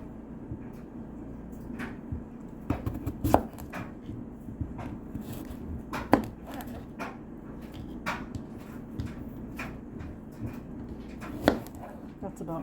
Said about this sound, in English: I'm gonna start chopping.